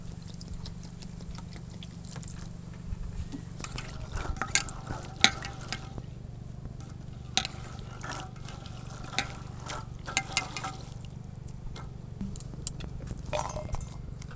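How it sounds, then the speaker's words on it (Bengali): Coriander leaves and other chutney ingredients are rinsed in water in a home kitchen. Faint, irregular splashing and wet handling sounds come over a low steady hum. "এবার সব কিছু ধুয়ে মিক্সিতে ভালো করে পেস্ট করে নেব"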